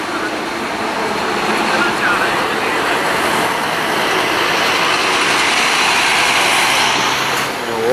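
Intercity bus from the Atibaia line pulling out of the Tietê bus terminal on a Carnival holiday, a loud continuous engine roar and traffic rumble swelling through the stretch, with someone talking over it.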